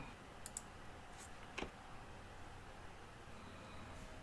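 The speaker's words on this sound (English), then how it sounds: "I'll hit enter to send that." Enter key pressed on a computer keyboard, a few faint clicks with one sharper tap, heard close over steady background hiss.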